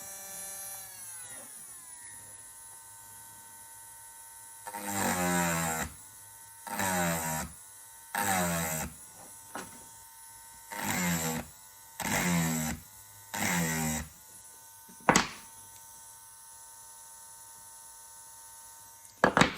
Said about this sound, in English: We got the little circle burr bit going now.